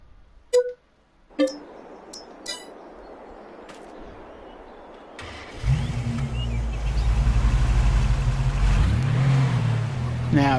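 A truck engine on a farm starts up after a few sharp clicks and knocks, then runs and revs loudly with rising and falling pitch, close by and alone.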